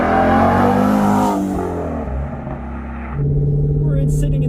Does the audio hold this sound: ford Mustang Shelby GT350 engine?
yes